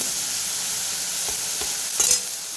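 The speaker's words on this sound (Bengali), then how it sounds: "এই যে পেঁয়াজ ভাজছি, পেঁয়াজ, কাঁচা লঙ্কা, টমেটো" Onions with green chilli and tomato fry in a pan, giving a constant bright sizzle with a few soft stirring knocks and a short louder crackle near the end.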